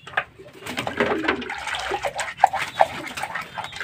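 Pigeons cooing and fluttering softly around a water dish, brief murmuring calls and small splashy sounds close by, fairly faint with no talk.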